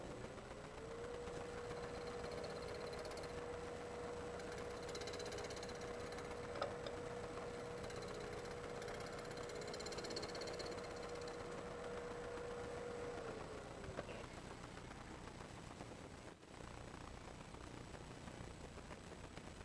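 A lathe turning wood during a multi-axis woodturning demonstration, a faint steady motor whine held for several seconds then dropping off, over a low background rumble with occasional light ticks.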